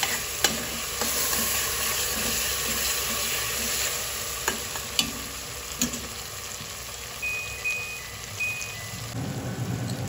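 Masala frying in a pan for togarikalu curry, a continuous close sizzle with occasional sharp scraping and stirring clicks from a spoon against the pan, with no voices.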